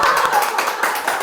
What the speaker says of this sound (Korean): 권권사님 박수.